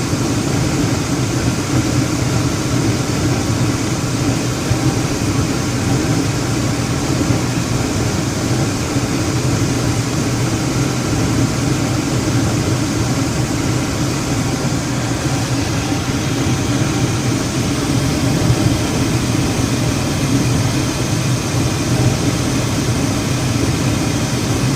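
A Carrier Weathermaker 8000 gas furnace runs with a steady, broad rumbling roar and airflow hum, constant and loud for the whole stretch with no voices.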